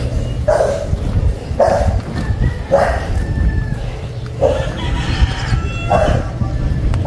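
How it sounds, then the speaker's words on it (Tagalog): Several dogs bark repeatedly at a roadside gate area in Batangas, sharp yapping bursts spaced every second or so over steady outdoor background noise. "Ay, maraming aso."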